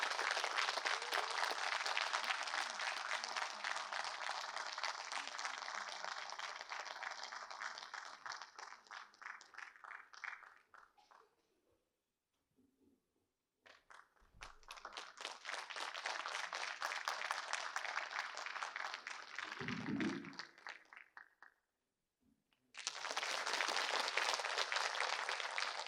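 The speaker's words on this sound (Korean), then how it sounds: "큰 박수로 맞이해주세요." An audience at a patriotic school concert claps to welcome a veterans' association branch leader as a speaker, dense sustained applause that fades to silence, resumes in a second long wave, stops again, then swells back strongly.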